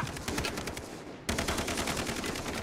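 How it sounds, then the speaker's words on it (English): Enemy gunfire in Far Cry 3 rattles in rapid automatic bursts, loud and close, with a brief lull before the shots resume. "they're all shooting from that direction"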